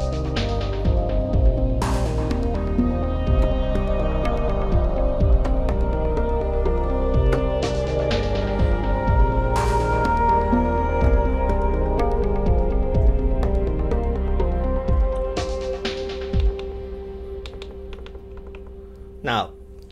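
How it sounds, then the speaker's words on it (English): Berlin school style synth sequence on a Korg Wavestate, repeating pulsing arpeggiated notes over a steady bass pattern with sharp percussive hits scattered throughout, continuous and prominent. "It's basically a Berlin school type of sound"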